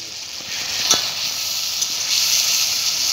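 Chopped tomatoes sizzle in a pan over a village wood fire. The hiss is loud, bright and continuous, broken by a few soft scrapes of stirring.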